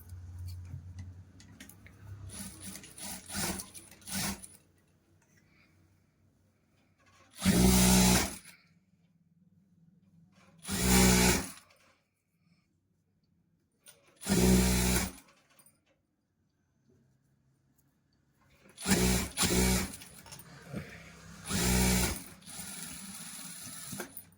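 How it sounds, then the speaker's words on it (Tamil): Sewing machine stitching elastic, heard as five short, loud bursts of rapid mechanical stitching separated by quiet pauses, with softer handling noise at the start. "இந்த எலாஸ்டிக் இப்படி ஈவனாக அப் அண்ட் டவுன் மாதிரி ஈவனாக வச்சு ஸ்டிச்சஸ் விடுங்க"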